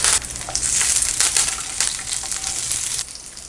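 Peanuts and dal frying in hot oil in a pan, stirred so they hiss and rustle in a close, bright sizzle with scraping surges that drop off near the end.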